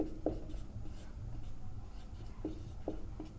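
Pen or chalk writing out a maths statement during a class 10 lesson: soft, faint scratchy strokes with a few sharp taps, over a low background hum and room noise.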